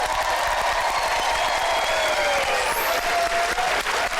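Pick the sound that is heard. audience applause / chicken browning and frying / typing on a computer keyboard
audience applause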